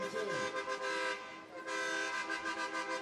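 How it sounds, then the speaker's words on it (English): An 18-wheeler truck at a Martin Luther King Jr. parade in San Diego blasts its horns in long, loud, sustained tones that dip briefly and then resume. "This big old 18-wheeler coming down, honking their horns."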